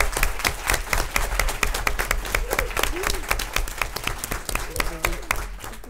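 Audience at a travel-industry blogger awards event cheering and clapping for a presenter, steady dense applause with scattered whoops and voices throughout the room.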